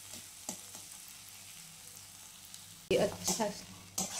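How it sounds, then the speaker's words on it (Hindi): Ginger garlic paste frying in a pan for a potato dish, with a steady faint sizzle and a few sharp spoon scrapes and stirring clatters near the end; a voice briefly speaks. "अदरक और लहसुन के पेस्ट, और इसे भी हम कुछ देर भून लेंगे"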